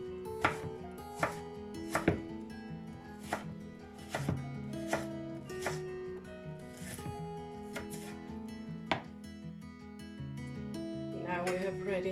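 Roasted pepper being chopped finely with a knife on a board, irregular close knocks and taps scattered over soft background music and faint room sound, no clear talking.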